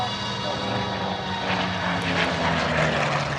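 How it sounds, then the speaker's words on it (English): A Chance Vought F4U-5 Corsair piston-engine propeller fighter flies past at an air show, a loud sustained engine drone that swells slightly as it passes, with no talking. "as he goes by, how far back he is in the fuselage"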